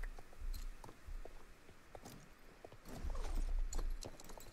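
Horse hooves clip-clop steadily on the ground in the video game Star Stable Online, a close, continuous walking rhythm with no talk over it.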